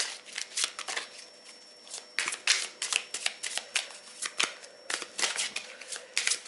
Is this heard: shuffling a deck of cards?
yes